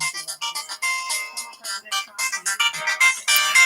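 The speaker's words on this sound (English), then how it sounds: "Answer the phone again." A phone ringtone plays as a bright, continuous electronic melody of rapid tonal notes, loud and close, with no voices over it.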